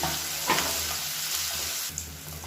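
Onion, potato and brinjal sauté in a pan for a spicy chutney, giving a continuous close sizzle with the occasional scrape of stirring.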